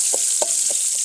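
Onions fry in oil in a pan for a home iftar dish, with a loud, bright sizzle and four soft stirring strokes spaced about 0.3 seconds apart, close and without speech.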